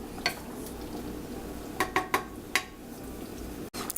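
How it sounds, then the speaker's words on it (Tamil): Washed rice stirred into a pot of liquid for Madurai-style mutton biryani, with a few sharp scraping and clinking strikes of a utensil against the pot over a low cooking hiss. "இப்போ அரிசியை போட்டு இதில் நல்லா கிண்டி விட்டுக்கோங்க"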